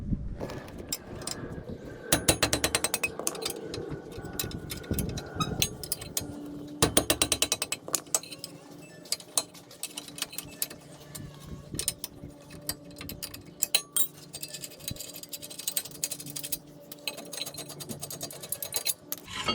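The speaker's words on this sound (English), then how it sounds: "So I'm going to be removing my caliper mount. There's two bolts over here, 17 millimeter wrench." Metal wrench clicks and ratchets on the front brake caliper mount bolts of a 2002 Toyota Corolla, a 17 mm tool working in bursts of rapid ticking with mechanical scraping between, close and fairly loud, no voices.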